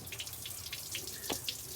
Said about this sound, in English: water's spraying out down below here from the block